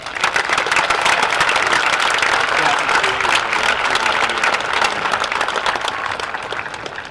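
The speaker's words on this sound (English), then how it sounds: "Please give these outstanding educators a round of applause." A high school commencement audience gives a sustained round of applause for educators, a loud, dense wash of many clapping hands filling a large space, steady throughout and tapering slightly at the end.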